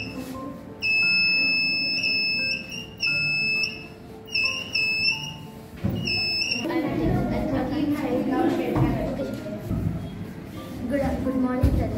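The buzzer of an infrared-sensor alarm from a school science-day project demo sounds in repeated piercing electronic beeps. Loud and intermittent at first, they then give way to a busy crowd murmur and chatter.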